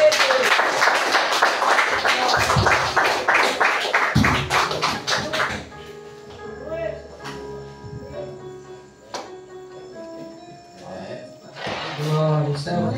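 A congregation at an Assembleia de Deus church claps joyfully in a fast, even rhythm for about five seconds. The clapping then stops, giving way to quieter scattered sounds, and voices come in near the end.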